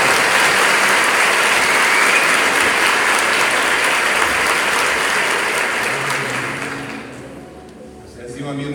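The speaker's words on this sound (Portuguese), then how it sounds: "Pode aplaudir a Deus pela vida dele" A church congregation at a Christian community service in Apucarana applauds loudly and continuously, a dense roar of clapping that fades out near the end as other sounds take over.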